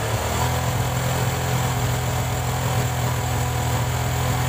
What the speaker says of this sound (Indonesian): Coba kita gas di sekitaran 3000 rpm.